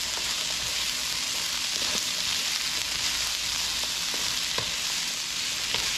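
Onions and pepper frying in a pan alongside fish, a loud continuous sizzle with scattered pops and stirring sounds, no voices.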